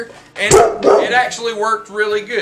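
A dog barks a few quick, sharp times near the start, then yips faintly while someone talks over it close to the microphone.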